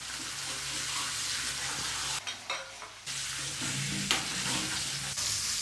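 Garlic and ginger paste frying in a pan, giving a steady close sizzle with stirring scrapes and brief dips and bursts of crackle, with no talk.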